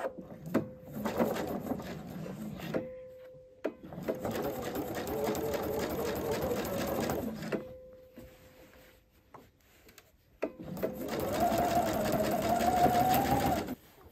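A domestic sewing machine stitches a fabric Christmas calendar in three long runs, each several seconds, with short pauses between, steady and close.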